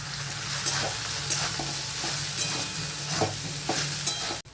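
Soybean chunks fry in a little white oil, a steady close sizzle with repeated soft scrapes and knocks of stirring throughout, no voices.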